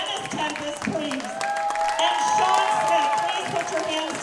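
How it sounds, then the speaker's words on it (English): A crowd claps and cheers loudly, with a voice speaking over the applause and music underneath. "Can we please have a great round of applause for Dennis Tempest, please?"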